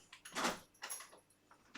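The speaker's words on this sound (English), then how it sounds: "That was the cat shutting the door there to get the flies." A door pushed shut by a cat, two soft knocks or thuds a short way off, with a fainter bump at the end and no talking.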